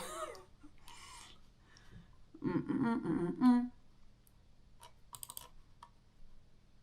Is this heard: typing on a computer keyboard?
yes